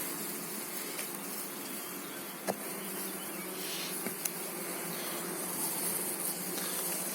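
A honeybee swarm at an apiary hums in a continuous dense buzz, steady and close, with a few faint clicks and knocks scattered through it and no talking.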